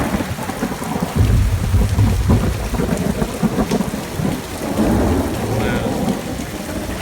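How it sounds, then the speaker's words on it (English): Heavy rain pouring outside a house with rolling thunder, a loud dense hiss with a deep rumble building and fading, and one short exclamation from a person. "it's raining too freaking hard"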